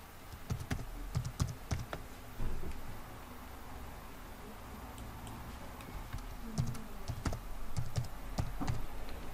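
A new name is typed in Latin letters on a computer keyboard: bursts of crisp, close key clicks with short pauses, steady and alone, no speech.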